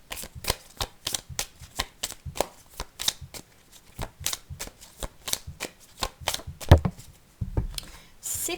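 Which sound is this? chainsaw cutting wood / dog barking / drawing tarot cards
drawing tarot cards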